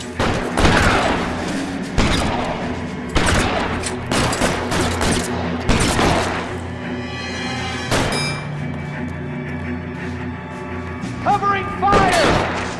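Sharp gunshots in a shootout in the video game L.A. Noire come in loud, spaced bursts of single shots and volleys, with mechanical clatter and a voice shouting briefly between them.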